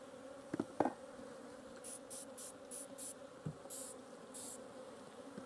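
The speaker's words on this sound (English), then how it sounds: "As soon as you get any little gaps, then out come the bees." Honey bees buzz in short bursts from gaps in a mini nuc hive, several quick high-pitched buzzes coming and going close by over a low background hum, with a few soft knocks.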